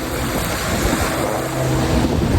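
Steady rush of water swirling at the shore, with broad surf noise and some wind buffeting the microphone throughout.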